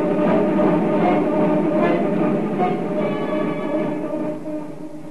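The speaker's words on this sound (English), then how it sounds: "Traveling, same train as Fogg and Party." A train rumbles along steadily with a dense, rolling clatter, fairly loud and continuous, fading slightly toward the end, in an old radio drama.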